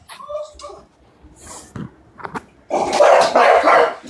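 A dog barks in short, sharp bursts at close range, getting louder and more agitated toward the end, with scattered noises in between.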